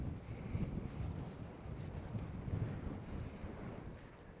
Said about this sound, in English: It's getting breezy.